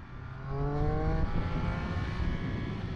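Triumph Speed Triple motorcycle engine pulling hard in second gear, its pitch climbing in smooth harmonic sweeps for about a second before holding a loud, sustained roar under wind rush.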